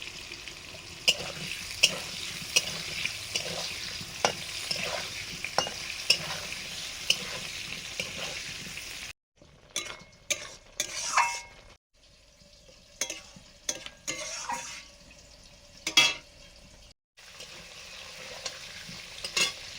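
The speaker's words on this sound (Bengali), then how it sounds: "আলুগুলো ভেজে নিচ্ছে" Potatoes fry in hot oil in a pan with a steady sizzle, broken by repeated scraping stirs and sharp clicks of a spatula against the metal; close and fairly quiet, with a brief pause in the frying midway.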